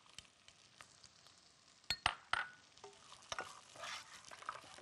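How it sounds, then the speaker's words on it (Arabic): Green beans being stirred with onions in a pot, with faint sizzling under scattered spoon clinks and a few louder scrapes midway. "اقلبها مع البصل."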